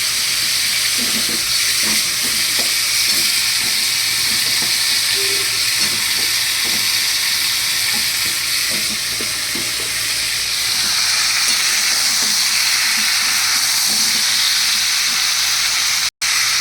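Carrots and papaya pieces cooking and being stirred in a pot of chicken stew, a loud continuous hiss and steamy sizzle with irregular spoon scrapes and knocks, ending in a sharp click.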